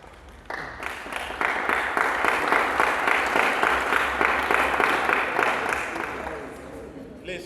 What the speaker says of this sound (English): the clapping is for the women, the ladies